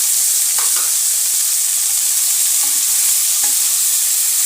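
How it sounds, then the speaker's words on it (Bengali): Spices and salt frying together in a pan for a Bengali fish-head ghonto, a steady close sizzle with occasional stirring scrapes, no talk. "এরপর সব মশলা নুন সব একসঙ্গে দিয়ে দিলাম"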